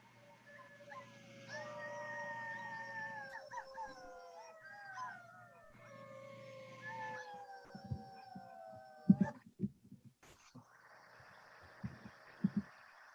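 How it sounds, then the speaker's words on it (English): Several drawn-out howls rise and fall together in layered, sliding tones for most of the stretch, fairly faint and distant, followed by a few sharp knocks and a brief burst of noise. "My 14-month-old thinks that howling at 8 p.m. is normal now."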